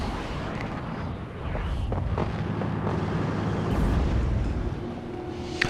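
Vehicle explosions and artillery-like booms from the WARNO war game as a lightly armored IFV armed with missiles is destroyed, a continuous rumbling barrage of blasts with a sharper bang near the end.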